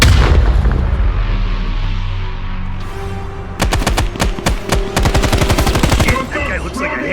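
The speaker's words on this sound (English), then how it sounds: "Grenade!" Gunfire and an explosion in the video game Call of Duty Black Ops Cold War: a heavy rumbling blast fades, then rapid automatic bursts of loud, close shots crack in a steady stuttering rhythm.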